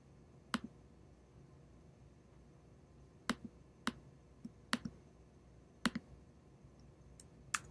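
Sharp, isolated mouse clicks, about nine of them in irregular bursts, sound against a faint quiet room background with no voice, as a user works in Dreamweaver 2017 software.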